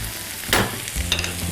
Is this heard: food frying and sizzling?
yes